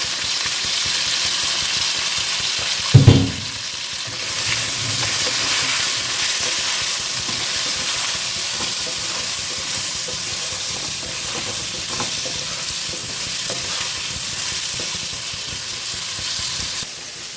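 Pointed gourd and potato fry in a pan, sending up a steady broad sizzle and hiss that lasts the whole time, with a brief louder clatter near the start and no voices.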